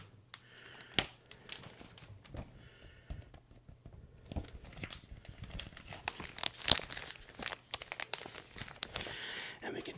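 Plastic packaging, one bearing Chuck Norris on the front, is crinkled and handled up close in quiet bursts of crackling and rustling, irregular and soft with brief pauses between.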